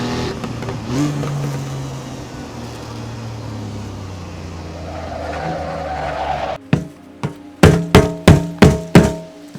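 A 1959 Mk2 Jaguar hot-lapping Donington Park National Circuit: a steady engine drone rises and falls with tyre noise, then sharp bursts of revving or gear changes punch out in a rapid rhythmic series near the end.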